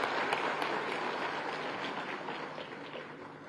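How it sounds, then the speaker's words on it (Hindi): An audience at an award ceremony in Dehradun claps in a sustained round of applause, fairly distant, with its level slowly tapering over the span. "ताली बजाइए एक बार जोर से मातृशक्ति के लिए हमारी"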